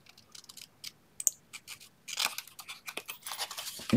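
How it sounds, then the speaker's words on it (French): Scissors snip through the corner of a paper sheet while a scrapbook album page is assembled, giving a few soft, close cuts followed by a busier run of crisp snipping and paper rustle. "Je vais couper mon petit angle ici,"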